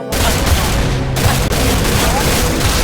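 Rapid gunfire from guns in Minecraft, a dense continuous volley of loud shots with booming bursts, heard alone.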